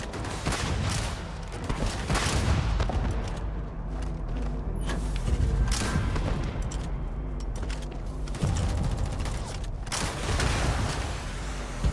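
Heavy weapon fire in the video game Starfield, with bursts of booming shots and mechanical clatter running through a busy combat scene and rising in several loud waves.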